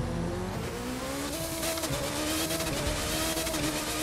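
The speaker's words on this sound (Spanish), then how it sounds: "Lo bueno de este carro, Lee, es que tú arranques y ya tú estás en 100 millas por hora" A Formula 1 race car in The Crew 2 video game accelerates hard, its engine whine climbing through gears with brief tire squeal, loud and continuous with no voices.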